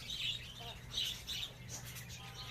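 African lovebirds kept as pets give a few short, high chirps in quick bursts, fairly faint, over a low steady background hum.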